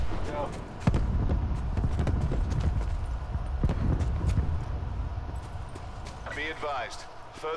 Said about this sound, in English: I swear, I just heard footsteps.